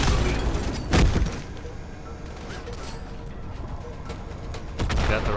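Rocket launcher fire in a Halo 2 multiplayer match on a ring map, two sharp booming blasts, one early and one at the end, over a dense clatter of battle noise.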